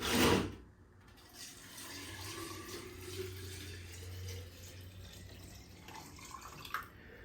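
Reverse osmosis water pours into a jar of folded organic banana peels, a steady trickling, splashing flow after a brief bump at the start. It is close and moderately quiet, with no talking.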